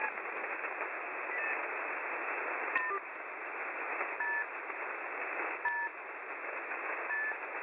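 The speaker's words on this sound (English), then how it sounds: "There's some utility of some sort with a beeping sound." Short electronic beeps from a utility radio signal repeat at irregular intervals over a constant band of radio static, fairly faint and with no voices.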